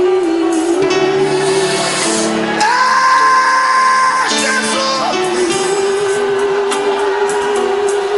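A church congregation shouts and cheers in a loud, continuous roar of whoops and yells, with sustained tonal music or voices rising through the middle of the clip.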